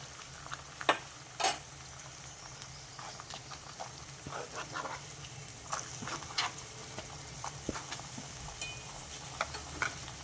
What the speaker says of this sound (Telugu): ఈ ఉల్లిపాయలు కొంచెం పచ్చివాసన పోయేలాగా ఏగనిద్దాం